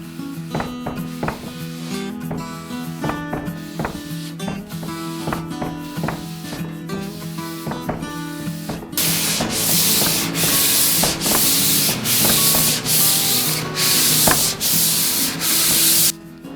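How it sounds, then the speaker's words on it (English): Sandpaper of 400 grit rubbing over a shellac finish on a vintage drafting table. Steady rhythmic back-and-forth strokes sound close and loud, stronger and brighter in the second half, with no voices. "Now that I've got the shellac all sanded down with 400 grit and also with a fine scuff pad"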